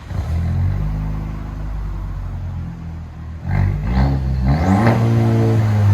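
A Chevy Silverado Custom with a 2.7L turbo engine and straight-pipe exhaust idles with a steady low rumble, then revs in several sharp, rising bursts. The exhaust note is loud and close, and no one talks.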